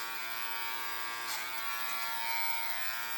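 An Andis Essential electric hair clipper hums steadily up close as it cuts hair, a bright constant motor whine that briefly rises in pitch as it bites into the hair.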